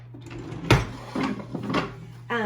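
A desk drawer in a home teaching space slides open or shut, a few soft scraping thumps spread over a couple of seconds against a steady low hum, close by and moderately quiet.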